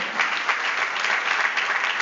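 A gathering at a book launch breaks into continuous clapping as a guest walks up to the podium, a dense, even patter at close range with no pauses.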